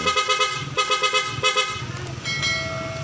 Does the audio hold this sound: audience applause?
no